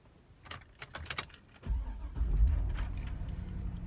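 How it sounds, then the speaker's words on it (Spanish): Keys jangle briefly, then a car or pickup truck engine cranks and catches at once, settling into a loud, steady idle close by. "el carro o la camioneta, pues arrancó de un solo"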